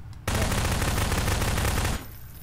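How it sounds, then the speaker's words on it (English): A continuous loud burst of rapid automatic gunfire in the video game Prop Hunt lasts close to two seconds, dense and unbroken, then cuts off abruptly. "What are you shooting at?"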